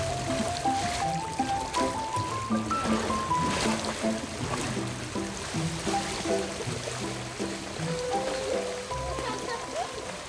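Water flows and trickles steadily along a river reshaped with natural banks in a historic German garden, beneath a prominent melodic music track, the rushing stream sound continuous throughout.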